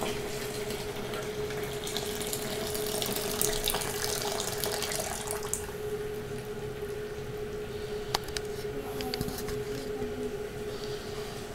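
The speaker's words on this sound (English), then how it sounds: "slowly pour that into the bucket" Water is poured slowly into a bucket outdoors in the early morning, a steady, faint trickling stream running alone throughout.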